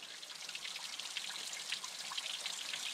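Small waterfall beside a forest trail, trickling and splashing softly and continuously at a modest distance, with no voices.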